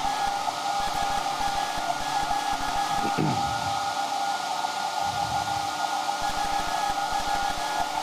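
Steady, loud machine hum and whine of the Grimeton radio station's longwave transmitter running, a constant drone with strong tonal bands, a brief rising sweep partway through and a faint rumble beneath, with no talk.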